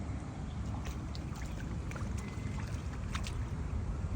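Strong wind gusting over a lake with choppy waves during a fishing trip, heard as a constant loud rumbling roar of wind on the microphone with splashy wash beneath and no voices.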